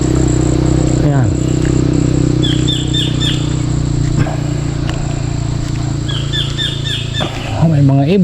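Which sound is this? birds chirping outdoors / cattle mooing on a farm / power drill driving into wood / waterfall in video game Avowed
birds chirping outdoors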